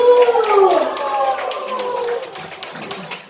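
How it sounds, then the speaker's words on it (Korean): A small group of older women at a community singing and talent contest clap after a song, a short patter of hands with voices talking over it. "잘하셨습니다. 박수!"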